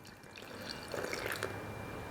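Hot water pours steadily into a bottle close by, a soft continuous gurgling stream with no talking.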